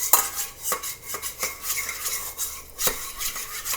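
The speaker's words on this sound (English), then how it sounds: "you're going to stir your glue and your food coloring" A utensil stirs white school glue and food coloring for slime, making a continuous soft scraping and swishing with light rhythmic knocks against the container.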